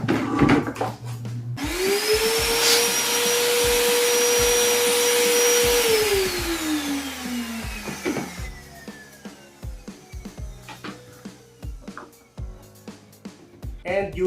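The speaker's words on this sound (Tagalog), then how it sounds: "Gamitin natin siya ulit with blower function." A portable PowerHouse 3-in-1 wet, dry and blower vacuum cleaner runs in blower mode. It gives a loud, steady whine for about four seconds, then winds down, with clicks, handling noises and some talk around it.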